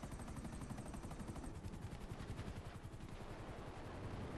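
A helicopter in a video game drones with a rapid, steady rotor chop that holds constant without pause and is heard alone.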